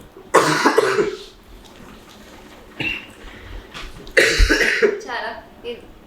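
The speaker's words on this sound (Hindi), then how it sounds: "खांसी अभी हम तीनों को वायरल हो गया था" Several harsh coughing fits from a viral cough up close, separated by pauses, with a little talking around them.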